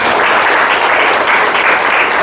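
A classroom audience of students bursts into loud, dense applause, many hands clapping continuously and close without a pause.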